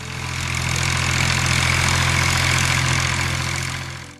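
A Massey Ferguson 135 tractor engine idles steadily at close range, a continuous low rumble that holds even throughout without revving or any talk.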